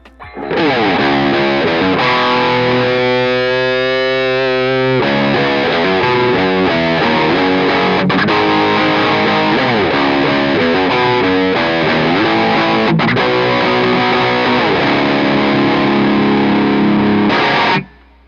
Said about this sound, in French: on va pousser sur une saturation bien vénère, et donc on va passer sur le modèle basique